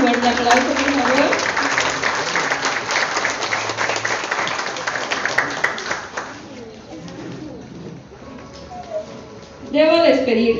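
Audience applause at a graduation ceremony: dense, sustained clapping from a crowd rolls on loudly for about six seconds, then thins out and fades, with voices speaking near the end.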